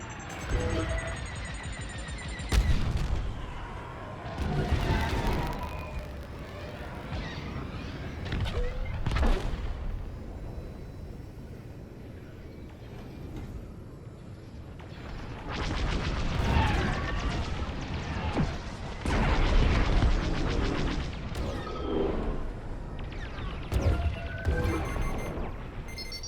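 Missile explosions in the Star Wars Squadrons video game, repeated heavy booms and crashes scattered through continuous space-combat rumble, with voices talking intermittently over the action.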